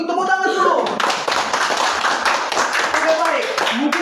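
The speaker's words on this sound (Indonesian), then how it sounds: "Tepuk tangan dulu" A classroom group claps together during a lesson on the history of Pancasila, the steady patter of hands running for several seconds with voices talking over and around it.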